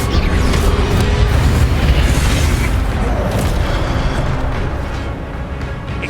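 An Incendio fire spell cast in Hogwarts Legacy gives a loud, continuous roaring whoosh with booming low rumble, steady and dense throughout.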